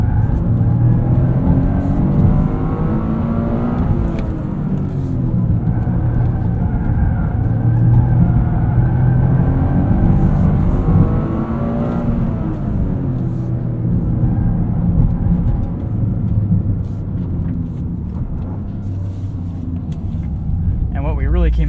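A 2023 Toyota GR Corolla Circuit driving a tarmac circle track, its engine droning loud and close from inside the cabin with rising and falling revs throughout.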